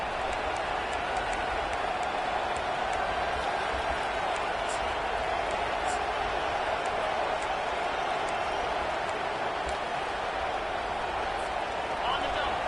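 A steady, dense roar of a football crowd fills the stands at a game in Tennessee, constant and diffuse with scattered claps rising from the wash, no single voice standing out.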